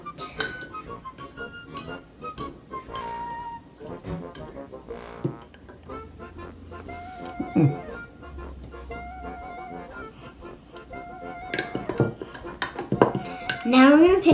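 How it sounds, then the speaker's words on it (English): A spoon stirs mug cake batter with milk and butter, giving irregular clinks and taps against the mug, close and fairly loud, with brief scraping in between and a burst of faster clatter near the end. "Now we're going to stir it around."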